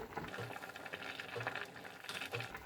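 A rosehip mixture for marmalade bubbles and simmers steadily in a covered pot, a soft continuous burble with occasional louder pops.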